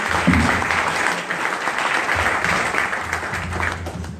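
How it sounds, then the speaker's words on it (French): Applause from a conference audience after speaker pitches, steady and fairly loud, with faint voices mixed in beneath the clapping. "Encore des applaudissements, encore des applaudissements"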